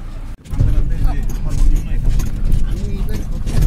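Car interior on the road in Kushtia, a steady low engine and road rumble filling the cabin from start to finish, with people talking over it.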